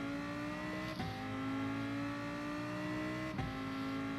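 Race car engine in a racing video game, set on the Dragon Trail Gardens circuit, holds a steady loud high drone with two quick gear-shift dips as it accelerates; no talking.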